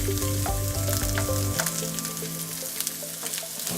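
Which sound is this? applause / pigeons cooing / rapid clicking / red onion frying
red onion frying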